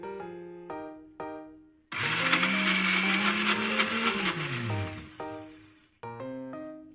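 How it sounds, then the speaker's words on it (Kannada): A mixer grinder whirs loudly as it grinds raw jackfruit masala with rock salt, a steady motor drone of about three seconds, while short clinking, tapping sounds come before and after. "ವಾಪಸ್ ಇದರಲ್ಲಿ ಗ್ರೈಂಡ್ ಮಾಡ್ಬೇಕು."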